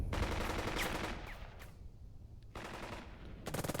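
Gunfire from the WWII tactics game Burden of Command, with troops firing on a paratrooper squad: dense, continuous rattling bursts, loud and close, easing midway and then swelling into a sharp, heavier burst at the end.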